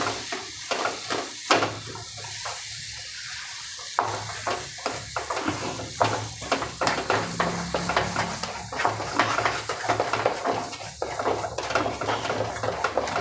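Sweet potato sheera is stirred in a pan after sugar is added, with repeated close spoon scrapes and clinks against the pan over a soft background sizzle, and no speech.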